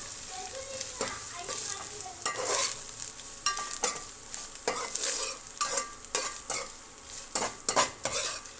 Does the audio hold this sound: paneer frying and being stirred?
yes